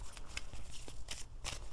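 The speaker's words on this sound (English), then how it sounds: "So I'll shuffle it a couple times, and then we'll just pick one off the top." A deck of playing cards is shuffled a couple of times, giving several quick riffling bursts close by with short gaps between them and no voices.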